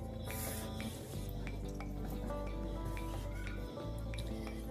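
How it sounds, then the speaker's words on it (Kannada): Bitter gourd fry with salt and cumin powder being stirred in a pan, a steady sizzle under repeated scraping and light clinks of a utensil, loud and continuous throughout. "ರುಚಿಗೆ ತಕ್ಕಷ್ಟು ಉಪ್ಪು ಮತ್ತು ಜೀರಿಗೆ ಪುಡಿಯನ್ನು ಸೇರಿಸಿ ಚೆನ್ನಾಗಿ ಮಿಕ್ಸ್ ಮಾಡಿ"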